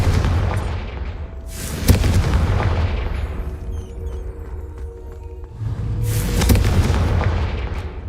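Two heavy booming blasts from the Confringo spell in a Hogwarts video game, each a sharp crack swelling into a rumbling roar, the first near the start and the second a few seconds later, with a quieter rumbling stretch between them.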